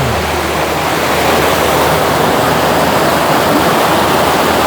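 Fast-flowing river water rushes hard and loud in Bosnia, a dense, unbroken roar of turbulent current that fills the whole scene without pause.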